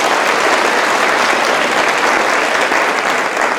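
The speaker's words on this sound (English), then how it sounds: "give them another big round of applause" Loud, dense applause from a concert audience for junior high student musicians, steady and unbroken throughout with no voices over it.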